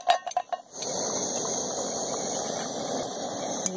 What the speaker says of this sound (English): And the water is boiling.